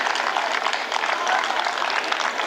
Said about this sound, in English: I want a very, very big round of applause for Manya.